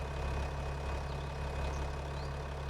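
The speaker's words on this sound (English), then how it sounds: "I just really like using this tractor in the field." Tractor engine in Farming Simulator 25 working a field, a steady low droning idle-like rumble with constant hum, continuous and unchanging throughout, no voices.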